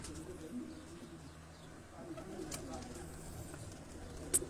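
Old pigeons in a loft coo softly and intermittently, faint low calls over a quiet background with a brief sharp sound near the end.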